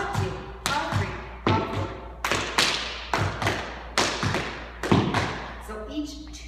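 Tap dance steps played in a swung New Yorker rhythm, sharp heel and brush taps falling in coupled pairs, close and crisp, a steady run of bright percussive hits on a hard floor.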